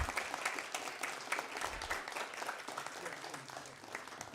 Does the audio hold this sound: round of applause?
yes